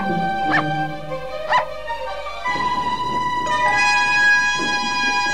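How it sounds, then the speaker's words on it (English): A cartoon dog gives two short yipping barks, then whimpers and whines over a sustained musical background in a 1987 animation. "He was a smart little dog, and he ran to get Sparky"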